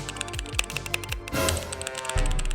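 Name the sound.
typing sound test on a gaming keyboard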